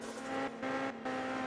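Small car engine in the top-down drifting game Absolute Drift, holding a steady buzzing drone with brief dips as revs cut between slides, close and continuous.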